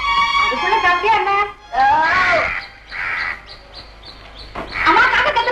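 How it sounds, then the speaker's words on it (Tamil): A crow caws loudly several times in close succession, with a voice speaking before the calls. "அம்மா காக்கா கத்துறது"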